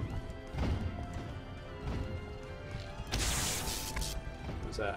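A shatter roll in The Deadly Tower of Monsters video game ends in a sudden bright crashing smash about midway through, loud and sharp over softer game effects and music.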